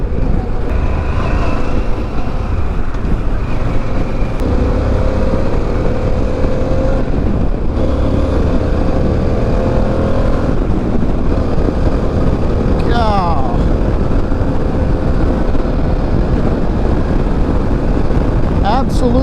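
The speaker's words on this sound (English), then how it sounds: "let's run over and take this motorcycle on the freeway and see how she does there" A Harley-Davidson Pan America motorcycle cruises on the freeway, its engine a constant loud drone with heavy wind rush and passing traffic noise throughout.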